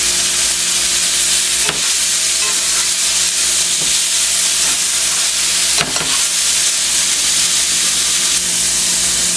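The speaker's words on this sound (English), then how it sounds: "We want to cook this until the steak is done." Steak bites fry loudly in a hot skillet with a steady close-up sizzle and hiss, broken by a few sharp crackles and pops as the meat is stirred.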